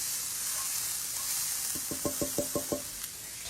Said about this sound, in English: I've fried my onions to their translucent